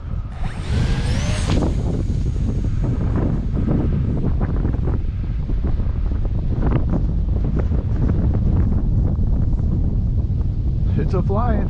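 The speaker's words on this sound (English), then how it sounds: "It's windy today." Strong wind roars steadily into the microphone outdoors during a windy flight of an XK P-51 Mustang RC plane, a constant loud rumble with faint motor whine and brief thumps.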